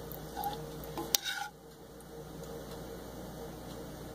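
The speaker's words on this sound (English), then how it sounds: "And just stir them in the pan" Grits with butter cooked on medium-low in a pan get a quiet stir: a soft scrape and one sharp clink of utensil on metal, then a faint, even background hum.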